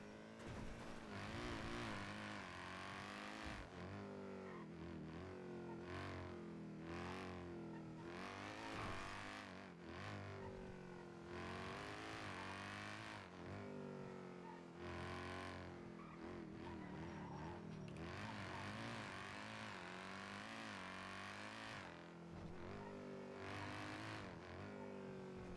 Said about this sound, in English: I forget how loud this car is.